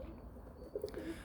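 Rampuri pigeons giving a short, faint coo of a few soft low notes against quiet background hiss.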